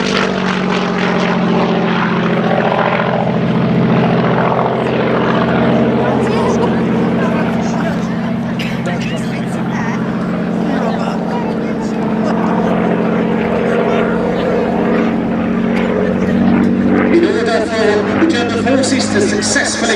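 Hurricane and Messerschmitt Bf 109G warplanes fly at the Biggin Hill Festival of Flight, their propeller engines giving a steady, loud piston drone with faint rising and falling tones that holds throughout.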